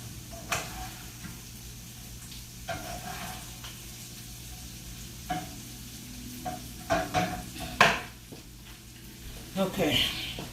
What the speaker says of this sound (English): let me stir my potatoes